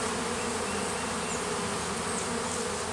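Honeybees robbing a hive make a dense, continuous buzz, with many insects swarming close and steadily throughout.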